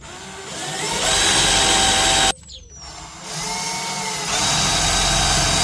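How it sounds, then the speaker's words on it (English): A power drill whirs loudly while drilling holes in a rat rod truck's rear end, stops briefly, then spins up again in steady bursts, close to the listener. "let's drill some holes"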